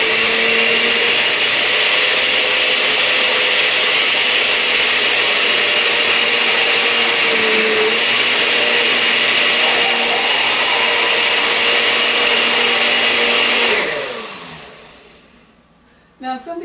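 Loud, close blender whirring steadily while blending almond milk and blueberries into a smoothie, holding a constant high-speed drone for about fourteen seconds before winding down and stopping.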